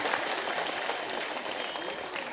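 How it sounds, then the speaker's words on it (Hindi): A crowd at a political rally applauds steadily and evenly throughout, a dense continuous clatter of many hands at moderate level with a faint hint of voices. "मैं आप दोनों के लिए एक बार तालियां बजाना चाहती हूँ"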